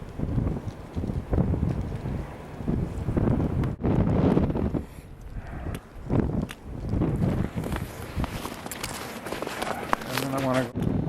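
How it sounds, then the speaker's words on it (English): Strong wind outdoors in snowy Finland buffets the microphone in loud, gusty roars, with a voice speaking intermittently beneath the rumble. "this will show you how windy it is"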